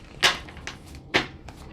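A deck of tarot cards is shuffled up close, giving two sharp riffling bursts with softer flicks between them, in a quiet room.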